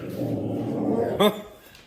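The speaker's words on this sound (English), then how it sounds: "Got the dogs all excited there." Dogs bark excitedly against a murmur of background noise, with one sharp bark standing out near the end.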